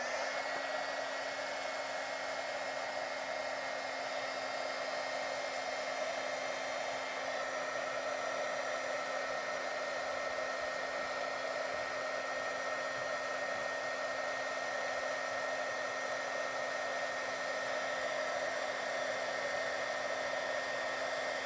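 Heat tool blowing a steady, unbroken whirring hiss with a constant motor hum while embossing powder on a Christmas card, close and uninterrupted throughout.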